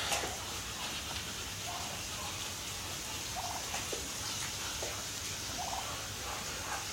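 Muscovy ducks in a barn give short, soft, repeated calls over a steady background hiss, the calls spaced a second or two apart and fairly close.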